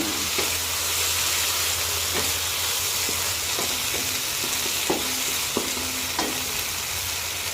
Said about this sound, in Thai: เราจะผัดแห้งหน่อยนะคะ